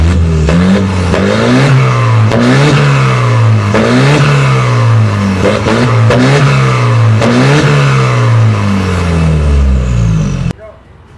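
A custom turbocharged car called Demon revs hard over and over, each loud vroom climbing and falling in a steady rhythm about every second and a half, until the engine note cuts off abruptly.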